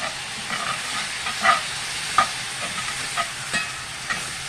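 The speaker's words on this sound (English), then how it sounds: "And just stir that around until it's smooth." Gravy made with chicken broth sizzles steadily in a hot pan while a utensil scrapes and taps against it in irregular strokes.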